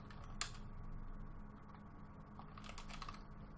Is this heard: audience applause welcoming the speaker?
no